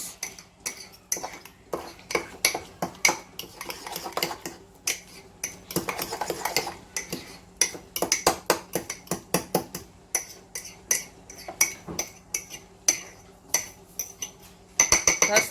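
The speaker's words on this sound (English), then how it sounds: "What I'll do is I'll mix all this together with a fork." A fork mixing keto bread mix in a bowl gives rapid, repeated clinks and taps of metal on the dish, continuing steadily and close up with no talking.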